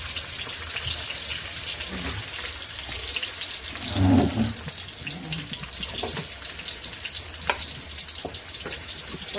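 Onion and potatoes fry in oil with a steady hiss, a louder burst as they hit the pan partway through, then an even sizzle with light clicks, no speech.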